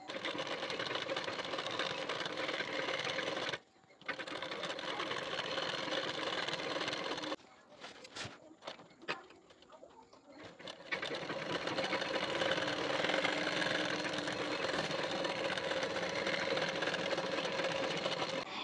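A sewing machine stitches a folded seam on Patiala pants, its steady whirring motor running close by, stopping briefly with a few clicks, then pausing again before resuming a long continuous run.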